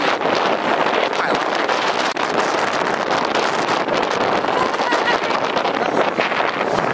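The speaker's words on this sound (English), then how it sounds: "All this damn wind." Strong wind buffeting the microphone at a beach during a food truck festival in Myrtle Beach, a loud continuous rumbling roar with gusty texture that covers the whole stretch.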